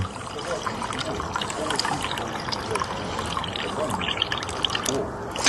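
Water trickles and splashes steadily through a portable water filter in the field, a close, continuous bubbling stream with no break.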